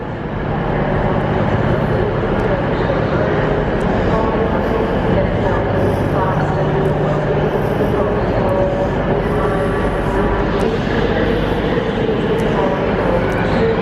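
Busy railway station ambience at Glasgow Central Station: a constant crowd murmur and rumble of trains, with occasional clinks and announcements blending into the hubbub.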